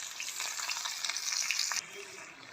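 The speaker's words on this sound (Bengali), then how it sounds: "এই যে কাঠের জালে রান্না হচ্ছে শীতের সবজি, আলু, ফুলকপি, টমেটো, লাউ ডাঁটা, বড়ি সব দিয়ে ঝোল হবে" A pot of winter vegetable curry with potato, cauliflower, tomato, gourd stems and lentil dumplings cooks over a wood fire, giving a steady close bubbling sizzle that cuts off abruptly near the end.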